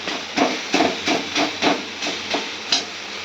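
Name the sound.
frying food in a wok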